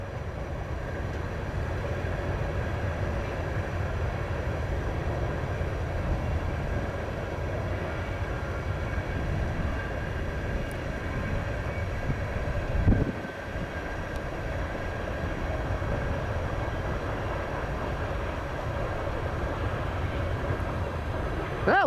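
CN freight train L571 rolls westbound beside the frozen Cedar River at Cedar Falls, Iowa, in snow, a steady loud rumble sustained throughout with one brief thump midway.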